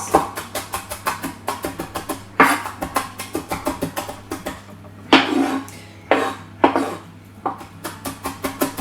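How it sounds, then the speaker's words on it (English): A kitchen knife chops scallions on a cutting board in steady, quick taps, pausing briefly between runs of cuts, close and clear, with no talking. "And then we're going to gather them together and just chop them up into smaller pieces."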